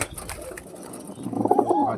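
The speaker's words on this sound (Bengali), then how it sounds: "অনেক বড় সাইজের পায়রা।" A large pigeon, about nine years old and still racing, coos in a short low burst near the end, close by, with no talk over it.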